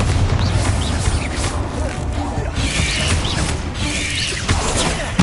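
Confringo and Bombarda explosion spells going off in Hogwarts Legacy, a dense run of booming blasts and crashing impacts layered over loud, continuous combat noise, with a voice heard during the fight.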